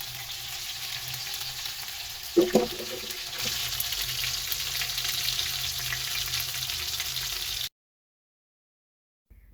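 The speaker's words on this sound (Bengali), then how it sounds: "এখন একে একে মাংসের পিসগুলো দিয়ে ভেজে" Chicken pieces dropped into a wok of plenty of hot oil sizzle with a steady hiss, marked by a brief louder crackle as a piece goes in, before the sound cuts off abruptly into silence.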